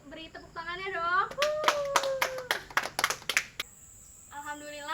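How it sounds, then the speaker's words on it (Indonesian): A classroom of high school students gives a brief round of applause, a short burst of clapping that rises and fades, framed by a teacher's voice speaking before and after. "Beri tepuk tangannya dong."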